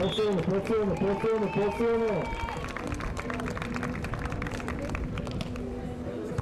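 Crowd applause for two Bulgarian players at a beach volleyball third-place match at Futures Sveti Vlas 2025, steady clapping beneath an excited commentator's voice that dominates the first half.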